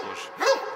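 Prison guard dogs give a brief bark or yip, close and short, over a steady background hum.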